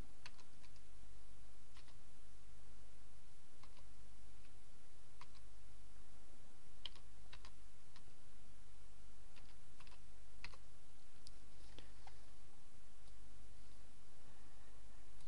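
A password being typed on a computer keyboard gives quick, light clicking keystrokes in irregular bursts over a faint steady hum, with no talk.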